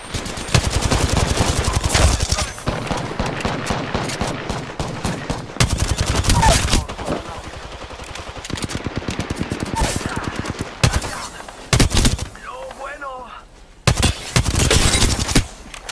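Rapid automatic weapon fire from the Apex Legends battle royale video game, bursts of loud close gunshots in long volleys separated by brief pauses, with occasional game voice lines mixed in.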